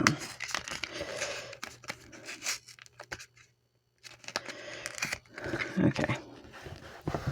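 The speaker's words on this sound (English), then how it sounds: "let's go ahead and rip these edges down a little bit" Paper being torn by hand along its edges for a shabby chic scrap-buster craft project, with repeated short ripping and crinkling bursts, close and moderately loud, separated by brief pauses.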